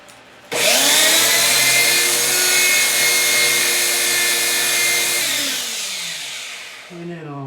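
A silver ring made from a Year of the Dragon silver round being sanded with 600 grit on a power tool, a steady high whirring drone that starts abruptly and winds down near the end.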